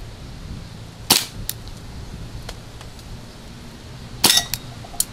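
An Umarex Legend P08 air pistol fires at cans outdoors, two sharp close cracks about three seconds apart, each followed by faint metallic pings and small clinks from the struck targets.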